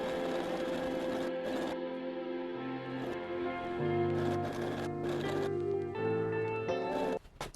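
Sewing machine stitching fabric for a Christmas vest, a close, steady mechanical whir with short stops and restarts and a few clicks before it cuts off near the end.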